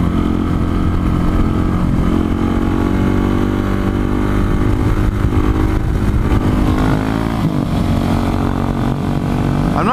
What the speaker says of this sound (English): Man, this bike's so fast.